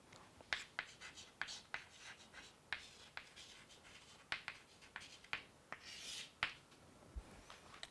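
Chalk or marker scratches and taps on a board as a math series is written out, a string of short, crisp strokes and clicks in irregular rhythm, quiet and close, with no talking.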